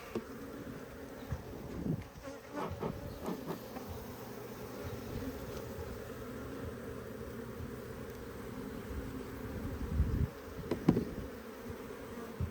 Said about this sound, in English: Really good though, a lot of bees on this one.